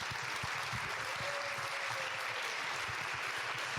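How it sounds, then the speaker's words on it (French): Audience applause at a French community assembly, a steady wash of clapping throughout with no pauses, moderately loud and evenly spread. "On peut l'applaudir."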